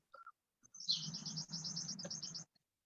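Birds chirp outdoors in a quick burst of bright, repeated tweets lasting under two seconds, close and clear, with a faint low hum beneath and no talk.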